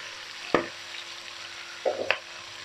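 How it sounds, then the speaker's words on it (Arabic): Vegetables tipped into a pot of Moroccan soup and stirred, two short clattering bursts of spoon and pot over a steady low hiss, with no voices. "دابا غادي نديرو الخضرة ديالنا كاملة"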